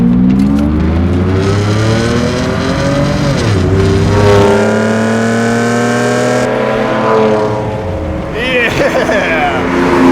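A V12 engine of the kind used in the Pagani Zonda, fitted to a budget car, revs hard and accelerates on a racetrack, its loud rising and falling howl shifting through gears up close with voices talking over it.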